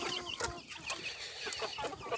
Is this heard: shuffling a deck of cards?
no